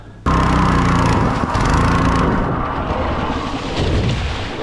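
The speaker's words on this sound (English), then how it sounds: "Why is the motor not going properly now?" A small motorized hydrofoil board motor roars loudly and close, starting abruptly and then droning on with a rough, wavering, uneven tone as water flicks onto its coil.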